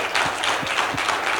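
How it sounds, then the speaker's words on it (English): Audience applause for the Bhopal hub hosts at a Global Shapers gathering, a steady wash of clapping throughout the short stretch with no voices on top. "So a huge round of applause for them."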